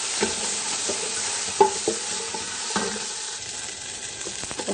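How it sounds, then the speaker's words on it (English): Eggplant pieces sizzle steadily in a hot pan for a mutton dhalca, with repeated scrapes and knocks of a spoon stirring them. Loud and close, no talking. "Okay, next I'm adding the eggplant."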